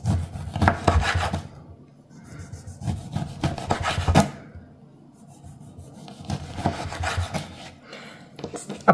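A kitchen knife slices oranges into rings for drying, giving close, rhythmic rasping strokes in bursts separated by short pauses, with no talking.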